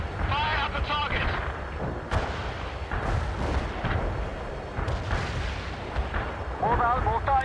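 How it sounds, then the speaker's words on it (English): Mortar artillery barrage in the World in Conflict video game, a dense rumble of repeated booms and blasts under overlapping radio-style voices and battlefield chatter. "Mobile mortar is ready, Commandant. The barrage is on the way."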